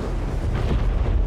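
The ship Helios crashing in the video game AIMBOT: a sustained, loud, rumbling roar of impact and explosion with no let-up for the whole moment, alone with no voices.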